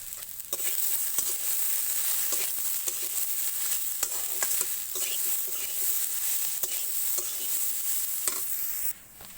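Potatoes, eggplant and leafy greens fry in a pan with salt and turmeric, a steady bright sizzle broken by repeated scraping strokes of a stirring spoon, close and continuous.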